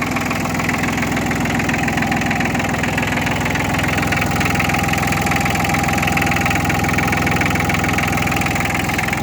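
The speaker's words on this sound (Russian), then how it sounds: "Двигатель работает ровно." A HINOMOTO E1804 tractor engine idles steadily and evenly at close range, a continuous rhythmic diesel chug with no other sounds over it.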